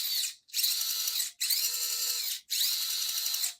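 A brushed electric motor in a RedCat Ascent 18 RC crawler whines at high pitch in three steady bursts, each cutting off briefly before spinning up again, close and loud with no talk.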